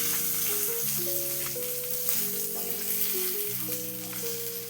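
Asafoetida powder sizzling in hot oil with curry leaves while being lightly stirred for an Andhra-style kara chutney, a continuous soft crackle under a steady tonal musical backing.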